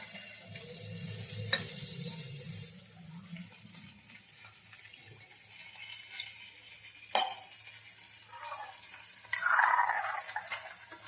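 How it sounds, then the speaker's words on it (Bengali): Water pours into a pot of rice in a home kitchen, a soft splashing trickle with a few clinks and knocks of the pot, followed by a brief louder gush near the end. "তো আমি আরেকটু জল অ্যাড করবো এর মধ্যে।"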